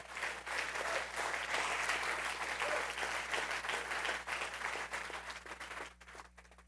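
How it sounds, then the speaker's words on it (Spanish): An Easter church congregation applauds, a full room of clapping that stays loud over a low steady hum before thinning and fading out in the last second. "Dale un aplauso al Señor"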